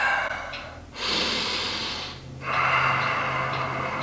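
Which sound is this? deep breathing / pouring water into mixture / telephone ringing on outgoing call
deep breathing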